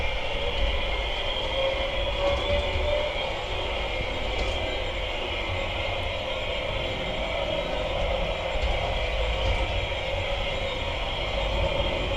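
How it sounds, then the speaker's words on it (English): A G gauge model locomotive runs on a museum layout track, giving a steady, continuous rolling rumble and hum with a faint mechanical whine that holds at an even level throughout, with no talk. "Oh, this is the G gauge loco."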